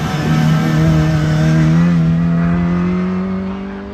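A Mini Clubman, the big valve twin carb version, drives hard up the Harewood hillclimb course, its engine note loud and close, rising steadily in pitch as it accelerates through the gears for a few seconds.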